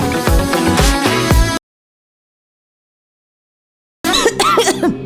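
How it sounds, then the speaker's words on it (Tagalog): A person coughs in a radio commercial, several harsh close coughs mixed with music, breaking into silence and then resuming with a strained, wheezy voice. "Ubo, premang nakabara, hirap sa paghinga."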